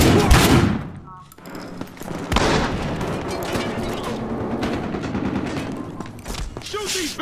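Rapid bursts of gunfire and booming shots in the video game Battlefield Hardline, dense and loud with overlapping weapon fire throughout and a voice talking over it.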